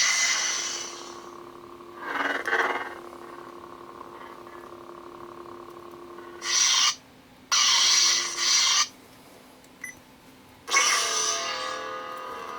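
A blood-orange Imperial Knight neopixel lightsaber sound font drones with a steady low hum, broken by loud, throaty, gritty rasping swings in several bursts, close and alone.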